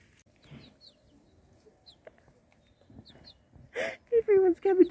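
Chickens cluck close by on a rural North Island stop near Rotorua and Taupō, with short low clucks and a run of louder, pitched calls near the end, and a person talks softly in between.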